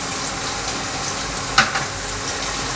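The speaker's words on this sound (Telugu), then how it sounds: "ఉల్లిపాయ పచ్చిమిర్చి లైట్ గోల్డ్ కలర్ వచ్చే వరకు ఫ్రై చేసుకోవాలండి" Thinly sliced onion fries in oil with cardamom, cloves and cinnamon, making a constant close sizzle with a small pop partway through.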